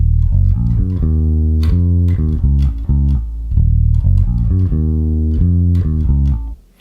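Bass guitar plays the intro and chorus riff, clear and close with steady, punchy repeated notes in a driving rhythm, heard alone without talk.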